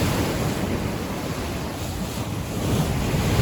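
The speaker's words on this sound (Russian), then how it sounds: "идут большие волны, накатами такими" Big storm waves roll in along the Yalta seafront at night, a loud continuous roar of surf with heavy wind buffeting the microphone, swelling slightly toward the end.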